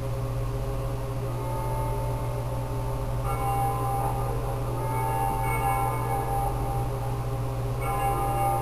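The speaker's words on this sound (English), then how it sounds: "They ring the bells here at dusk to honor the liberation of the capital." Church bells ring at dusk in a liberated capital in the video game Ace Combat Zero, sounding as a steady, resonant tolling over a constant low hum, fairly distant and even throughout with no talk.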